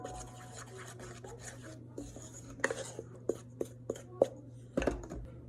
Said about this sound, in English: Now just mix all those dry ingredients together.